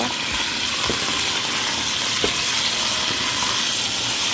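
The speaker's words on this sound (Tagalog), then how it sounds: "So yan po yung chicken, um, pinan-fry ko na siya para maganda yung texture at um, mix na natin dito." Chicken, tofu and black beans fry in a pan with a constant loud sizzle, punctuated by a few faint clicks of stirring, close up and without any talk.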